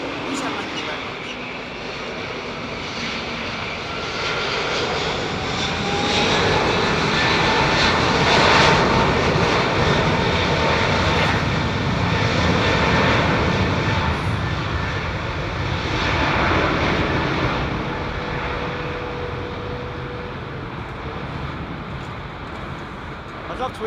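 Jet airliner engines roar steadily at Heathrow Airport ahead of a storm, a loud, broad rumble swelling and easing over about twenty seconds as aircraft pass, with no talk over it.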